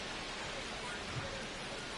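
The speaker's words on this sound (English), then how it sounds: "This rain is not letting up." Rain falls in the baseball video game MLB The Show 25 as a steady, faint, even hiss of rainfall, unchanging throughout.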